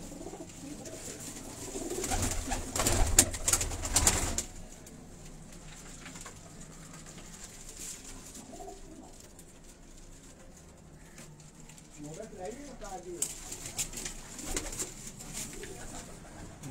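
Pigeons coo softly at a distance on a rooftop over steady outdoor background noise, with a burst of rustling or fluttering early on.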